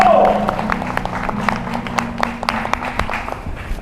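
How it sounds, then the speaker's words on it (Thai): An audience at an evening CEO talk event claps to welcome a guest, a brief burst of scattered applause that fades under a low hum and a bit of talk. "ขอเสียงปรบมือต้อนรับครับ"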